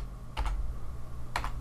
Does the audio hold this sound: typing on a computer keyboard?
yes